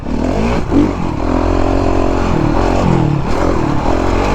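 A Honda CRF 450 dirt bike engine revs loud and close, holding a steady rough roar with a few rising and falling throttle swells throughout.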